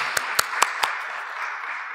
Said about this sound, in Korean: 하나님 앞에 감사의 박수 드립시다